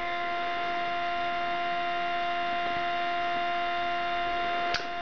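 A Muller motor runs at a settled speed, giving a steady electrical hum with layered tones, quiet and unchanging, with a couple of tiny clicks near the end.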